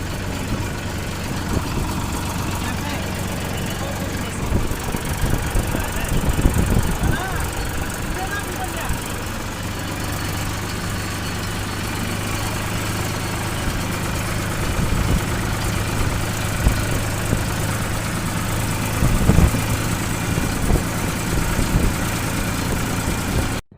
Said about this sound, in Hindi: जब मैं ट्रैक्टर में बैठ गया था, चार खाली कर दिए और घर पे पहुँचने वाले हैं